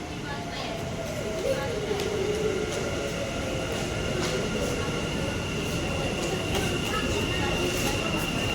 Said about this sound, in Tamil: பாருங்கள், ட்ரெயின் வந்துருச்சு.